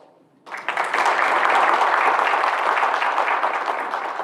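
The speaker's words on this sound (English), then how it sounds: "I think you owe them a round of applause." Audience applause at a National Honor Society induction ceremony starts abruptly and holds as a full, steady roar of many clapping hands through the rest of the stretch, with no talk over it.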